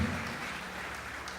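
Audience applause fills a church service, a steady wash of clapping at moderate level with a low murmur beneath and no clear voices on top.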